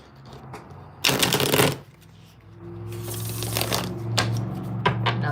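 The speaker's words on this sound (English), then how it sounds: "Feels like you want a good shuffle, good mix up." Tarot cards are shuffled close up in two riffling bursts, a short sharp flurry of card slaps followed by a longer, looser run of flicks and taps, with a faint hum underneath.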